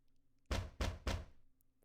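A telegram messenger bangs on a door in the video game The Great Ace Attorney: three loud, evenly spaced heavy knocks, close and clear over a quiet background hum.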